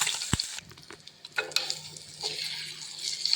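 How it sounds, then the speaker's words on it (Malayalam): Dried fish crackles in a non-stick pan, a soft, fairly faint sizzle scattered with sharp pops and stirring scrapes, heard alone. "നമ്മുടെ ഉണക്കമീൻ കിടന്നത് കടകടകടാ പൊട്ടുന്നുണ്ട്"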